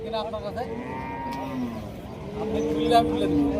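A large cow at the Rajshahi city cattle market gives long, drawn-out moos, close and clear, over the steady murmur of the busy market.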